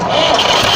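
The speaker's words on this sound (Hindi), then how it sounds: "हमने ट्रैक्टर को स्टार्ट किया और इसकी बहुत ही अच्छी स्टार्टिंग है।" A restored Massey Ferguson 35 tractor engine cranks and fires into a loud, close, steady roar over a brief moment.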